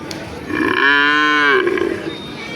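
A cow gives one long, loud, close moo that rises and then fades, at a village cattle market, with faint background murmur before and after.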